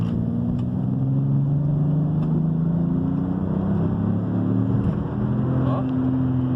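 BMW X6 with the 335 bi-turbo N54 direct-injection engine revving, a loud, close engine drone that climbs and falls in pitch several times, with no talking.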